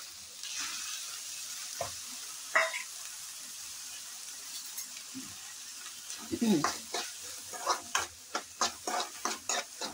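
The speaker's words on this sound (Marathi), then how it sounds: "ही या तेलात थोडीशी भाजून घ्यायची।" Home-sprouted beans (moong sprouts) roasting in a little oil in a pan for misal pav, a low sizzle with intermittent scraping stirs that grow more frequent and rhythmic toward the end.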